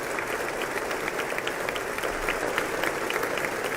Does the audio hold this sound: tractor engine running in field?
no